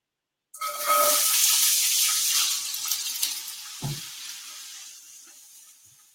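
Onions hit hot avocado oil in a pan with a sudden loud hiss that settles into a steady sizzle, slowly fading, with one dull knock partway through.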